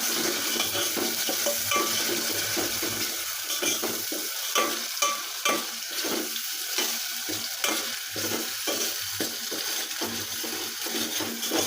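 Onion paste fries in hot oil for a chicken dish while being stirred, a steady crackling sizzle broken by repeated scraping strokes of a spatula against the pan, close and continuous without talk.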